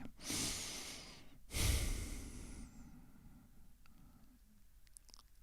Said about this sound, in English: an effective trick to cleanse the mind is through breathing